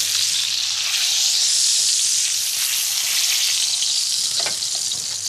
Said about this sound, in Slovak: Na panvicu dáme najskôr cibulu spolu s cesnakom. Chvíľu opražíme.